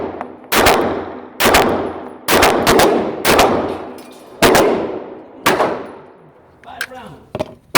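A CZ P-10C pistol fitted with an HB Industries Theta kit fires repeated five-round bursts, each a sharp, loud cluster of rapid cracks with ringing echo between, several bursts in a row and one weaker burst near the end.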